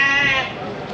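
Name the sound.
lambs bleating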